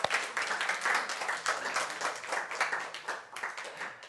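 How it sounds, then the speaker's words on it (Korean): A Korean church congregation claps to welcome visitors during a worship service. The applause is moderately faint and dense, with individual claps rippling through a steady, slightly distant wash that lasts throughout. "우리 오신 분들 또 서로에서 우리 박수로 환영하세요."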